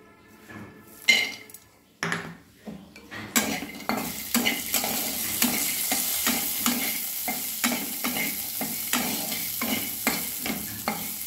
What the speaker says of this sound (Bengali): এবার বাদামগুলো ভাজবো